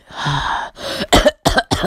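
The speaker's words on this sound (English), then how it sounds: "Naruto would cough." A voice coughs and splutters in a short series of harsh bursts, close to the microphone, each one rough and breathy.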